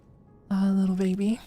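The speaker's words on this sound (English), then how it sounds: "Wonderful, the cat." A single loud, drawn-out cat meow close by, holding a steady tone before rising at the end, with no talking over it.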